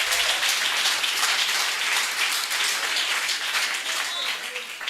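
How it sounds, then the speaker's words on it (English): A crowd at an outdoor community bench unveiling honouring Harry Belafonte in Cape Flats gives a round of applause after a film, loud continuous clapping from many people filling the whole stretch. "can we give another round of applause for this?"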